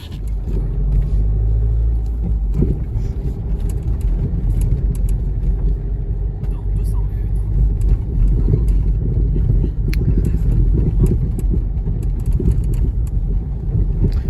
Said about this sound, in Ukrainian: Нам десь близько двох кілометрів треба проїхати до місця зустрічі з Данилом.